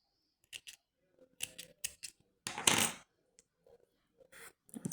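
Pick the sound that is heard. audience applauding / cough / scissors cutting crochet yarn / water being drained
scissors cutting crochet yarn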